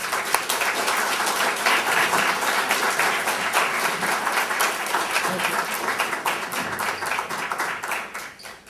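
An audience applauds to welcome an admiral to the podium at a security lecture, with dense, steady clapping sustained at even loudness for several seconds before tapering off at the end.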